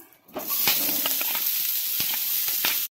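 Sliced onions hitting hot oil in a karahi already holding garam masala, a sudden loud sizzle that holds steady with crackles and stirring scrapes, then cuts off abruptly.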